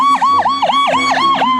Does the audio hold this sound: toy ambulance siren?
yes